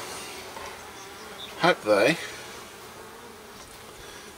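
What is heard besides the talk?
honey bees buzzing at a hive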